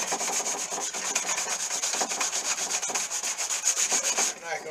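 Rapid rhythmic rubbing of a sanding sponge buffing the metal hardware on an old Park tool box, close and steady scratchy strokes repeating for several seconds before stopping.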